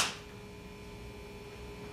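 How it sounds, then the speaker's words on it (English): A single sharp hand clap at the very start, close and crisp, followed by a brief ringing decay and a low room hum. "I heard that clap from here"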